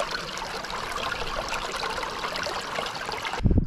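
Steady rushing and trickling of a flowing brook, continuous and fairly close, with a brief thump near the end.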